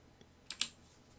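A few quick clicks of a computer keyboard in a quiet room, one light tap then two sharper keystrokes close together, with no voices.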